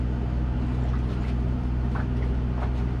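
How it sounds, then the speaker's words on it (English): Steady low engine drone of a small 14-foot fishing boat with a 20-horsepower four-stroke outboard motor near Chandeleur Island, a continuous close rumble with wind and water noise throughout. "six small 14-foot crafts with 20 horsepower, four-stroke motors"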